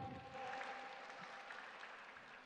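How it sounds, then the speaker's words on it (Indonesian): Studio audience at a televised youth preaching grand final breaks into broad applause, a dense continuous patter of many hands that holds steady for a few seconds, moderately loud with no talk over it. "Tepuk tangan semuanya."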